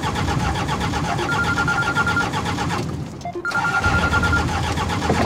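Car engine cranking repeatedly without catching, a continuous loud grinding starter whir that cuts out briefly partway through and then resumes, close by.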